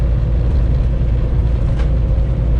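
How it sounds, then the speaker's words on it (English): Semi truck hauling a heavy load uphill, its engine a loud, steady low droning rumble heard from inside the cab, continuous and unbroken throughout. "Yeah, we're definitely going uphill, I can tell now. I can tell how my truck sounds."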